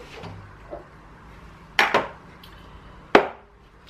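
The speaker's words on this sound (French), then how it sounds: "Alors je mélange tout ça." Ingredients stirred together in a dish, with a few sharp clinks and scrapes of a utensil against the bowl at irregular intervals, close and fairly quiet with no talking.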